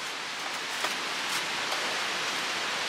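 Steady rain falls as a continuous broadband hiss with a few faint drip accents, heard close and alone with no voices.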